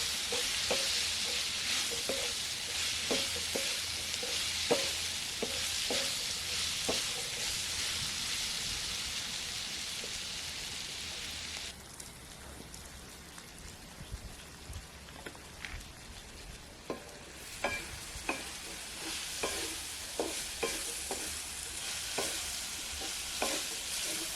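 Spiced food sizzles steadily in a pan over village cooking heat, a continuous close frying hiss broken by repeated scraping stirs and soft clinks, with no talk.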